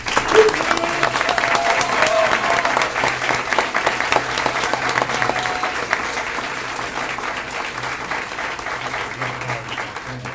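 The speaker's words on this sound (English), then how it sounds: "And let's give them a round of applause." An audience at a school board meeting applauds students honored as top archers, a steady, sustained round of clapping from a moderately distant crowd that holds evenly for about ten seconds.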